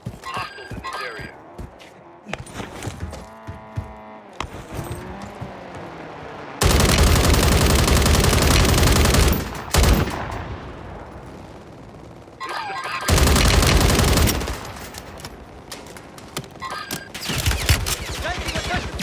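Bursts of gunfire from the video game Warzone, with long loud stretches of rapid automatic fire and a few shorter volleys between quieter gaps that carry game voices and distant shots.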